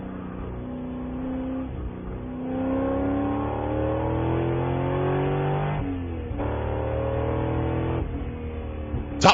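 A Spec Corvette race car engine at WeatherTech Raceway Laguna Seca roars from onboard, climbing through repeated upshifts with a brief lift and dip near six seconds, then rising again as the car pushes on.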